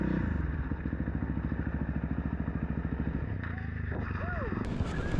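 A KTM 790 Adventure motorcycle rides off-road on water-crossing and hill-climb terrain, its engine thrumming steadily and close for the whole stretch, with clattering and a brief rising whine near the end.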